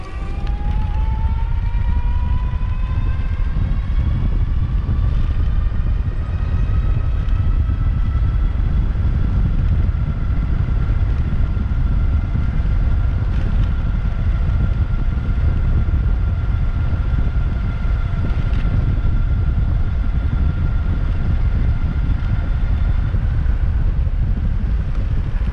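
An Electric Bike Technologies T3 CX electric trike rides at full throttle, a steady motor whine rising in pitch and holding high under constant loud wind rush, with no talking.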